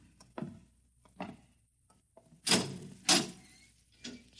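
Door in a radio drama sound effect, heard as a series of soft thuds and footsteps followed by two sharp, close latch clunks and a final knock-like thump, alone in a quiet room.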